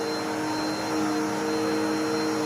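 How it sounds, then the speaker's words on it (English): Bissell 2252 CleanView Swivel upright bagless vacuum running on carpet at a mid height setting, a steady whining motor drone with a high tonal hum, fairly loud and unbroken throughout. "It's not the loudest vacuum."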